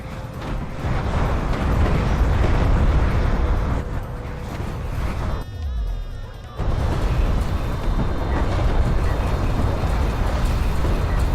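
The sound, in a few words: siege cruisers bombarding, explosions in a video game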